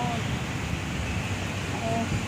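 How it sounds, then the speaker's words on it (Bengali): Strong wind blowing outdoors, a steady loud broadband rush with rumbling buffeting, close to the microphone and continuous throughout. "অনেক হাওয়া চলছে প্রচুর হাওয়া চলছে"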